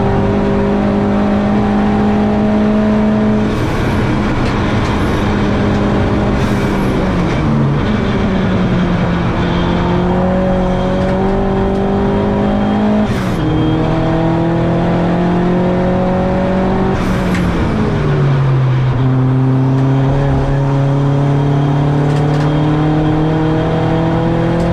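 A Ford Puma touring race car in a turbo tin-top race at Donington is heard from close by as its engine screams hard, climbing in pitch through repeated upshifts with brief drops between gears, loud and sustained.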